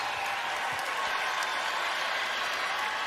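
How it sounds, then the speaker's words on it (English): Fans at a women's college basketball game between Texas and Kentucky cheer wildly, a loud, unbroken roar of applause and shouting that holds steady throughout. "you heard the crowd absolutely go wild"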